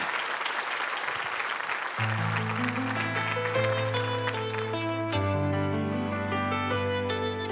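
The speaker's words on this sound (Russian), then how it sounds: "Под аплодисменты нашей публики" Applause from a concert audience greets a singer on stage, a brief burst of clapping that is quickly overtaken by loud music starting with sustained tones and a melody.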